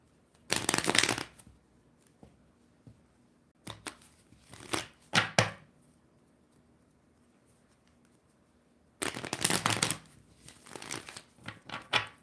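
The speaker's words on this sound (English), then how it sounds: "I'll continue shuffling and get these cards ready for" Tarot cards are shuffled close by in three separate bursts of rapid papery riffling, with quiet pauses between them and no talking.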